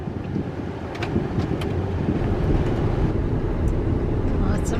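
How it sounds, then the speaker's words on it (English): Steady wind buffeting a microphone outdoors on a warm, breezy day near a construction area, a continuous low roar that fills the whole stretch with faint higher whooshes on top. "It's a very warm breeze."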